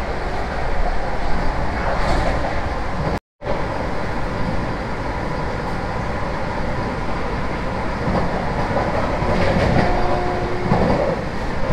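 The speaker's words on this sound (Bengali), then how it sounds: "এই ট্রেনটা কিন্তু বন্দে ভারত ট্রেন" The Vande Bharat Express, train 22309 from Howrah to Bhagalpur, rumbles along at speed with a loud, steady roar and faint clickety-clack, briefly cut by a moment of silence.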